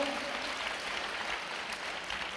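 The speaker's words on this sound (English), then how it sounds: "let us give a big round of applause for all the volunteers" An audience claps for festival volunteers at a youth fest, with faint, steady applause that sounds distant and continues throughout.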